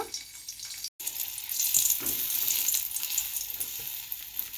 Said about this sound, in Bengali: এখন এটাকে আমি ভাজা ভাজা করে নেব, একদম লাল লাল করে ভেজে নেব।